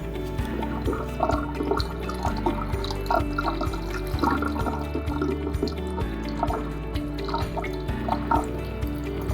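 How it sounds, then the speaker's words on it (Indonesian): Histology slide rinsed under running water in a lab, a steady close stream with dripping and splashing accents, heard alone without talk. "Setelah 5 menit, diangkat dan dicuci dengan air mengalir."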